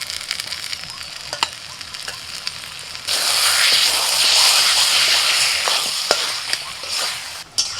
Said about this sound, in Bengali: প্রথমে আমি একটু হালকা করে ভেজে নিয়ে চিকেনটা দিয়ে দিচ্ছি।